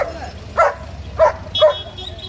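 Three short barks from a single dog at a Friday dog market, evenly spaced about half a second apart, fairly close and loud over a low crowd murmur.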